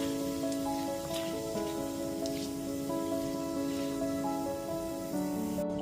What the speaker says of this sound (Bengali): গ্যাসের ফ্লেমটা লোতে করে এবার ফোড়নটাকে হালকা করে ভেজে নিচ্ছি।